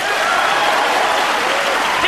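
Audience applause for a great pool shot at the 2002 World Pool Championship match, Earl Strickland vs Francisco Bustamante, a steady dense wash of clapping that fills the whole stretch and swells slightly at the end.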